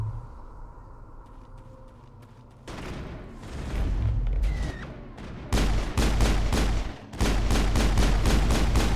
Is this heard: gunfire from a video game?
yes